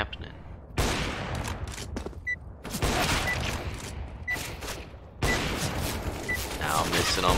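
Rapid bursts of gunfire from the video game CS:GO during a competitive match, loud sustained volleys separated by brief pauses, with sharp gun clicks and mechanical handling noises between the shots.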